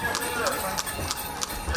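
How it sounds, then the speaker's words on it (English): Hooves of a horse pulling a carriage through a blue-painted town clip-clop in a steady, regular rhythm, fairly close and moderately loud over a steady outdoor background. "Visitors can ride horse-drawn carriages through this blue town"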